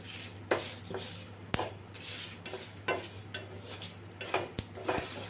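Mustard and fenugreek seeds stirred in a pan on low flame, a spoon scraping and clinking against the metal in irregular strokes with sharp taps, over a faint sizzle, close and fairly quiet.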